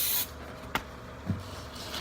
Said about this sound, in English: you take your starting fluid, you spray it around the rim of the tire.